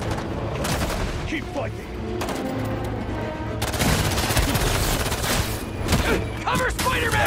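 Rapid bursts of automatic gunfire and scattered single shots from a Spider-Man 2 prison-break battle, loud and dense, with a voice calling out over the shooting.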